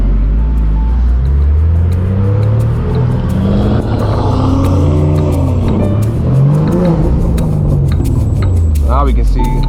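A car revs and pulls away at a large BMW car meet, its deep engine note rising and falling in pitch as it accelerates off nearby, with people talking over it.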